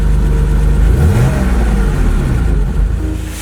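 Porsche 911 3.2 Carrera flat-six engine revving, a deep sonorous roar rising and falling in pitch, loud and close throughout, easing off slightly toward the end with no voices.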